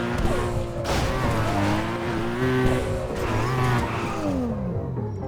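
A police car in the FiveM mod of GTA V roars through a chase, its engine droning steadily with sliding pitch sweeps and tire squeals, loud and continuous throughout.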